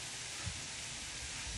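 Red onions for marmalade sizzle softly in a pan after the heat is turned off, a faint, steady hiss with no speech.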